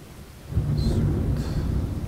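Rain and thunder in the video game Lost Horizon: a steady rain hiss gives way to a deep, loud rumble of thunder that rolls on continuously, with faint higher crackles above.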